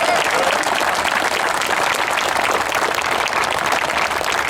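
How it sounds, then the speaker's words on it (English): Loud, dense applause from a roomful of Marines at a captain promotion ceremony, clapping for themselves in a continuous even roar close by for several seconds. "give yourselves a round of applause"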